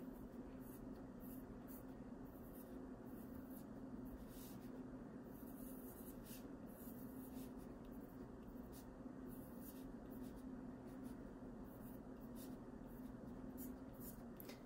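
A pencil draws lines on paper, a faint, close scratching that comes in soft repeated strokes over a low room hum, with no voices.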